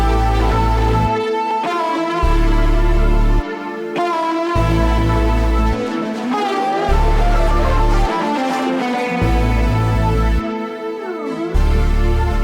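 Dark, vintage analog synth sample for a beat: layered gliding synth lines over heavy, pulsing low notes that repeatedly drop out and return, loud and dense, with no voices.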